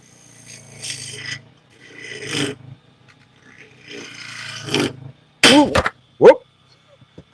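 A skew chisel cuts butternut wood spinning on a lathe, making rasping, scraping bursts that come and go in several passes. A few sharp louder knocks follow near the end.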